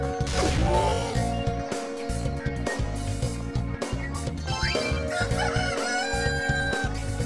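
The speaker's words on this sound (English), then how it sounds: "Chicken seems awfully excited." A chicken in the video game Devil Summoner 2 crows and clucks excitedly over loud game music with crashing, thumping sound effects.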